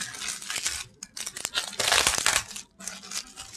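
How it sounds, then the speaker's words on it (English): Box packaging for a Huawei Mate 20 Pro phone is cut open, giving close, busy bursts of snipping, crinkling and tearing with a couple of brief pauses. "So let's open this secured pack, and I'm going to cut it from here."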